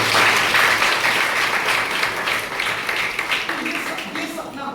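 A hall full of nursing officers applauds loudly at the start of an address in Varanasi, then the clapping slowly thins and softens while a voice speaks underneath.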